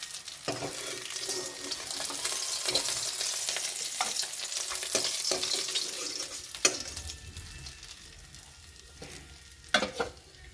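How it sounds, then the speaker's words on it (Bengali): Fish frying in oil in a pan, a steady close sizzle with occasional clatter and scraping as the last pieces are lifted out, the hiss easing toward the end. "মাছ ভাজা হয়ে গিয়েছে, লাস্টের যে মাছটা তা আমি তুলে নিচ্ছি।"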